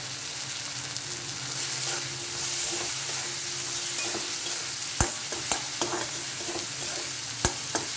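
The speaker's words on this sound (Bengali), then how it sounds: "মশলাটা ভালোভাবে কষানো হয়ে গেছে" Spices with turmeric and chopped chillies fry in a pan for moong dal, a steady close sizzle with a few sharp utensil taps against the pan near the end.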